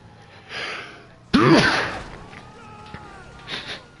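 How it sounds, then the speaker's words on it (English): A sharp, loud sneeze bursts out after a quiet breathy intake, followed by softer noises and a faint breath. "I'm gonna sneeze."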